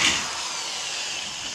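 A drill turning a bit freshly sharpened on an ALDI Ferrex 65W tool sharpener bores through material with a steady, close, fairly loud whirring grind that holds evenly from start to finish.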